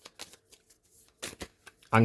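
A deck of board game cards for Avatar: Crossroads of Destiny is handled with soft scattered flicks, then a sharp riffle shuffle bursts out loudly at the end, close by.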